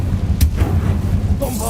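A Confringo spell cast in Hogwarts Legacy gives a sharp blast that flares and fades into a brief whooshing, ringing tail over a steady low game rumble.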